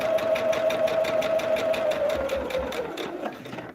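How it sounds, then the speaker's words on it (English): A sewing machine stitches fabric for a star-patterned table runner, its needle running in a fast, steady rhythm that stays close and loud throughout before easing slightly near the end. "Let's sew away."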